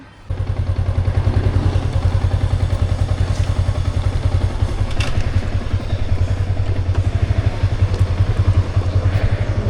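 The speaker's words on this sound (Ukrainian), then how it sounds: "Викликаю байк таксі і погнала." Riding on a motorcycle taxi: the steady, close throbbing of the bike's engine with a rapid rhythmic putter and occasional light rattles, continuous with no talking.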